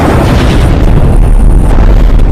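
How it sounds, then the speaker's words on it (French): Meteorite explosions as a sound effect in a children's dinosaur story: a loud, sustained, rumbling boom with deep low-end weight, filling the whole short moment without any voice. "on pouvait voir des météorites arriver partout. Et ça faisait des explosions."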